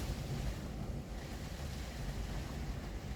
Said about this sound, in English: Oh, the wind is really getting up out there now.